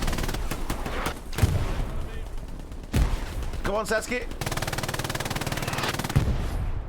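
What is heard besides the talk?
machine gun fire in video game Hell Let Loose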